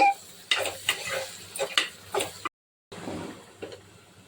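Eggplant curry with turmeric, chili powder and garam masala being stirred in a pan, a spoon scraping through it in several short, close strokes, then a brief silence before more stirring resumes.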